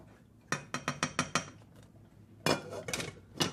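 A spoon knocks and scrapes against a metal pot of simmering keto pizza topping in a quick run of about six evenly spaced clinks, then a short pause and a few louder, rougher scrapes.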